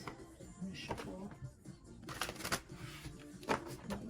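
Close, quiet rustling and riffling of oracle cards being shuffled, in uneven bursts, with soft voices murmuring at times.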